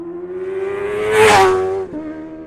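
A small 2009 Yamaha Vino 125 scooter engine, long unused, turns over and catches, its hum rising to a brief rev before settling back to a steady idle.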